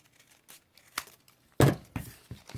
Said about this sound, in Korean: 끝부분만 좀 잘라주세요.